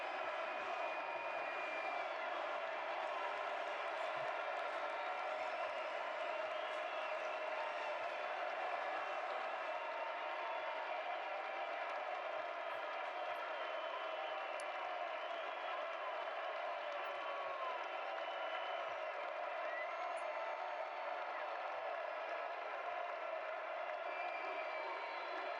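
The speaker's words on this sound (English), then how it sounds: "The crowd wants more." Crowd at a Rocket League esports event (RLCS) applauding and cheering steadily, a dense sustained roar of clapping heard from the arena without a break.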